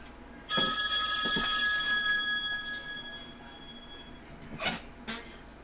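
A telephone rings with a loud electronic bell tone that holds steady for about four seconds and then cuts off, followed by a few thumps and clatters as the handset is picked up.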